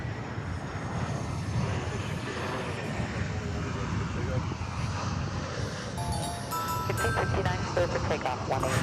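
Jet engine rumble of an American Airlines A321 airliner at DFW Airport, a steady broadband roar that holds throughout and swells toward the end, with faint talk beneath it.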